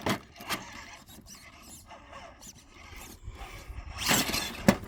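An RC car on Proline Flat Iron XL tires spins with too much wheel speed, giving scattered squeals and scrapes that build to a louder burst of tire noise near the end.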